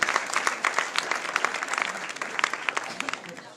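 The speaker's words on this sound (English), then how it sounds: "big applause for her as well" Audience at a tech meetup talk claps for a speaker, a fairly dense, lively round of applause at moderate volume that tapers slightly toward the end.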